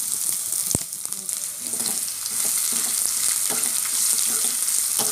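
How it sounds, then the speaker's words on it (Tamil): Curry leaves and onion frying in oil, a bright continuous hiss close by with one sharp clack near the start and soft stirring scrapes underneath, steady and unbroken. "கருவேப்பிலை, வெங்காயம் போட்டுக்கலாம்."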